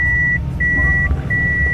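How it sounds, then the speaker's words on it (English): Reversing beeps from an automatic car: a loud high-pitched tone repeating in long, regular pulses over a low engine idle, close and clear, with no one talking. "So you hear that beeping. It signals you that it is in reverse."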